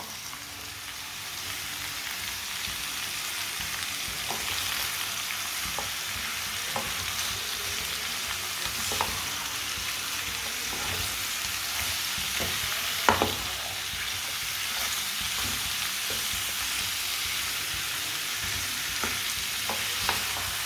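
Chopped turnips are stirred in a pan over a medium flame, a steady sizzle and frying hiss running throughout with soft scraping taps from the spoon at irregular intervals, close and without talking.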